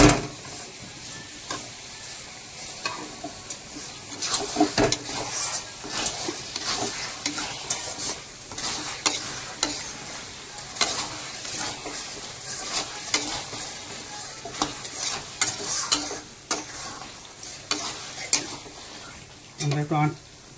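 Marinated chicken is stirred and sautéed in a pan over a gas flame, with a continuous sizzle and repeated scraping and clattering strokes of a spoon. Someone talks over the cooking.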